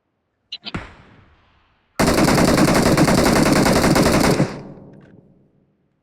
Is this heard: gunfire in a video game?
yes